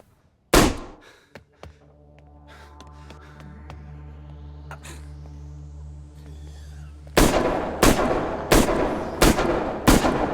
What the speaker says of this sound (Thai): ยิงยิง ยิง ยิง ยิง ยิงเรียกแขก